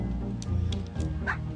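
Short yips and barks from a dog in the video game Lucky Castle, set over steady game music, with a few separate bursts spread across the moment.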